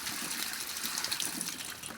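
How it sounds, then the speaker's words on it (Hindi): Water is sprayed onto new brick room walls to cure them, a steady hissing, splattering gush close by with no talk. "ये पानी मार रहा हूँ मैं।"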